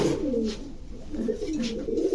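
Pigeons at a sale of Golla, Lokkha, Giribaz and shirting breeds give soft, rolling coos, two faint throaty phrases close by against quiet background noise.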